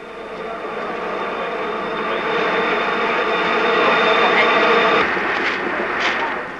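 The steam locomotive Pendennis Castle stands waiting at Midland station near Perth, Western Australia, as a train passes. A broad, steady rumble and hiss swells gradually and then eases, with no speech.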